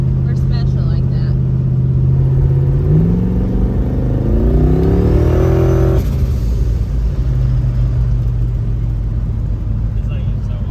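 A Ford Fairmont burnout car with a swapped engine revs on the road, its loud low rumble climbing sharply in pitch over a few seconds, then dropping back to a steady drone while cruising.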